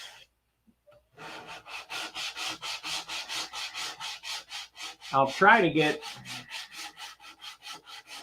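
A P-47 model fuselage is hand-sanded in steady back-and-forth strokes, about a dozen rasping passes in an even rhythm, close and clear, with one louder, rougher burst midway and a brief spoken phrase.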